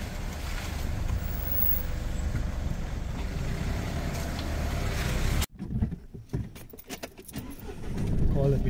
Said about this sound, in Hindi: पीछे ले रहा हूँ गाड़ी एक बार